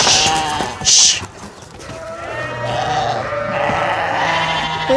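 Sheep bleat on a farm while being herded, several calls overlapping at close range, loud and repeated over a rustling background.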